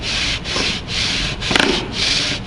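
Guitar frets being leveled with a sanding beam, heard as steady back-and-forth rubbing strokes of sandpaper over metal frets in a regular rhythm, close and fairly loud.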